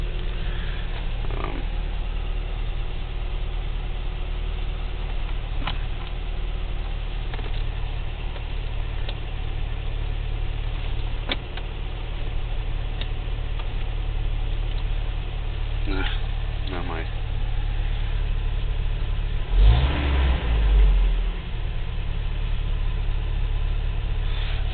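A car engine runs steadily at idle throughout, with a brief rev near the end, recorded close with a constant low rumble; a voice speaks over it.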